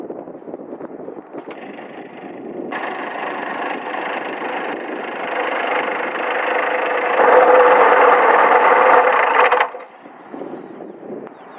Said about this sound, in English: Here's Bruce and Fred, just arriving, taxiing down